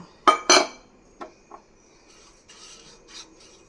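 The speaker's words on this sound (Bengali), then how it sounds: "এবারে প্রথমে আমি সুজিটাকে কড়াইতে একটু নেড়ে ছেড়ে নেব" Semolina stirred in a wok with a metal utensil, a few sharp scraping clinks at the start and then softer scattered scrapes and rustles, close and intermittent, with no speech.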